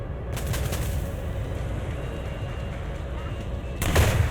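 Gunfire and battle noise in the War Thunder combat game while the player's aircraft is picked off by a sniper positioned up high: a dense, steady rumble with sharp bursts at the start and a louder surge near the end.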